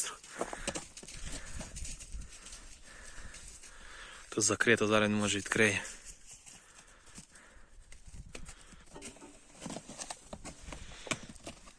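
Hooves of a young draft mare clop on hard ground in an uneven walking rhythm, with people talking nearby and a loud neigh in the middle, at a horse sale near Ternopil.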